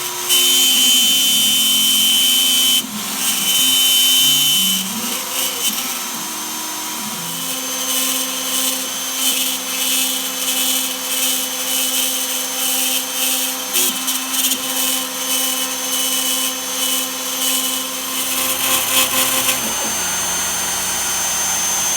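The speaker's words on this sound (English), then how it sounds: "I went ahead and installed my 1/8 inch bit. This is a down cut bit, so that's going to give a cleaner cut to do this roughing pass." A router with a 1/8 inch down-cut bit makes a roughing pass on a wet wood plaque. It gives a loud, continuous whine that rises and falls in pitch as it cuts, then drops away near the end.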